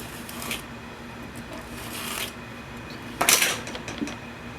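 Ruler scraping excess casting sand flat in a mold, a few short gritty rasping strokes close up, the last one louder and longer.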